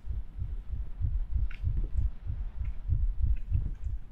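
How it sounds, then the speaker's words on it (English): Steady heartbeat effect from the horror game Layers of Fear, a low double-thump pulse repeating about three times a second, close and prominent with faint background tones. "I hate the sound of heartbeats, though."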